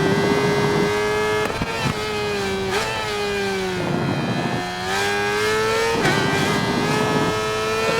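The engine of a 2009 Suzuki GSX-R600 sport bike in the racing game Ride 4 screams at full throttle, its loud, steady high-revving whine dipping briefly with quick gear shifts before climbing again.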